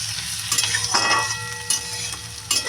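Onion and potato sizzle in a hot pan while a utensil stirs and scrapes, giving several sharp clatters over the frying.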